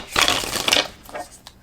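A quick riffle of shuffled tarot cards, a short papery flutter followed by a few soft taps.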